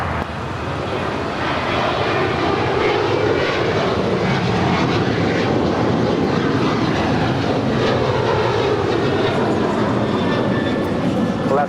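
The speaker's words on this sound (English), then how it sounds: "That was Alaska 290 departing to Guadalajara on a 737-900 ER." An Alaska Airlines Boeing 737-900ER roars down the runway on takeoff at LAX, a loud, sustained jet rumble heard from nearby with faint voices underneath.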